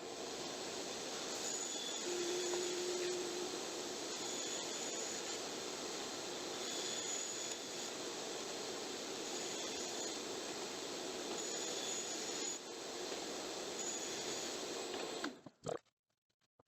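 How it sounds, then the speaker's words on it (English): A bandsaw cutting notches in salvaged plywood for a mobile table saw cart, running as a steady loud whir with cutting noise throughout, then stopping abruptly near the end. "I'm just going to cut out the notches in that plywood using the bandsaw."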